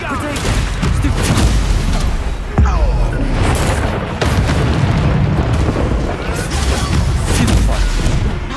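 Confringo and Bombarda blasting spells in the Hogwarts Legacy video game: loud, repeated explosive booms and bursting pops in a busy battle mix, with sharp blasts standing out over dense rumbling combat noise and a voice calling out.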